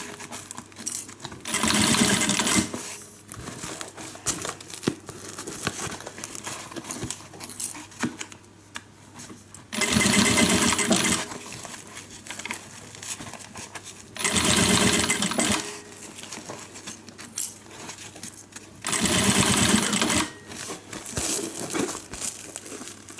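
A sewing machine stitches the seam of a handmade guitar-shaped handbag in four loud, steady whirring bursts, each a few seconds long, separated by quieter pauses of fabric handling.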